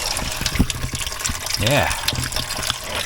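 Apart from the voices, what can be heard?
coolant draining from Mercedes GL320 radiator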